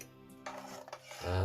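A spoon scrapes and clinks against a pot while slurry is stirred into Filipino kanto-style beef pares. The contact noises are brief and close, about a second and a half long, and there is no talk.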